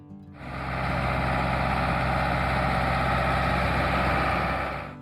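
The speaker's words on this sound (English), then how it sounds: "The sound of the Ford 5000 engine, deep, steady, is like a lullaby of the land," A 1965–1976 Ford 5000 tractor engine idles after starting, a deep, steady, loud low rumble with even vibration that holds unchanged for about five seconds, with no voices.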